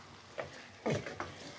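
A utensil stirring pork binagoongan with okra in a pan, giving a few short scraping strokes over a faint sizzle.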